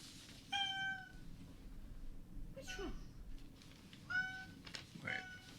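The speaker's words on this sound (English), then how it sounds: "See, these are mostly meows." An Oriental shorthair cat named Teddy gives three short, high meows separated by pauses, fairly close, with a low background hum and a faint brushing noise between them.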